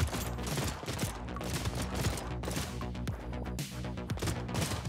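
Revolvers firing in the video game Brotato, rapid overlapping shots in a steady, busy stream with mechanical clicks mixed in, moderately loud and continuous over game music.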